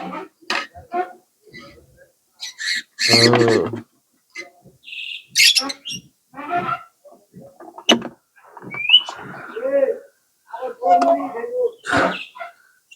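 Pet lovebirds chirping, squawking and making talk-like chatter in short, close bursts separated by quiet gaps, with some high sharp calls mixed in.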